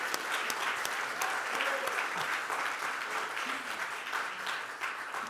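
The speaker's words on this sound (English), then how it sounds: "I want to give them a round of applause" An audience at a college event on education in prison gives a round of applause for upcoming graduates, steady, full clapping filling the room with a few sharper individual claps standing out.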